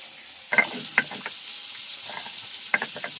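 Ginger, green chillies and one dry chilli frying in a pan for a village-style rohu fish curry, a steady close hiss with a few quick clattering spatula strokes.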